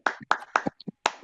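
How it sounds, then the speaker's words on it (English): Short bursts of clapping from a class in a French lecture, four or five brief clusters of claps spread over about a second, close and moderately loud, with no talking. "Applaudissez-vous."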